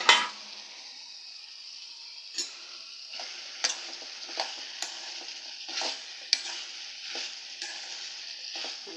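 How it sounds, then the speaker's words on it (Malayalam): Bitter gourd fries in a pan with a steady sizzle, and a spoon stirs it now and then, each stir giving a short scrape or clink. The sound is close, at moderate loudness, with no talking. "നല്ലതുപോലെ ഇളക്കി കൊടുക്കുക."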